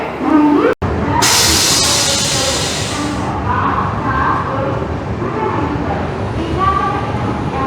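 A train pulling out of Bhubaneswar station, heard as a loud, steady rumble with a burst of hissing air early on and faint tonal sounds, while voices talk over it.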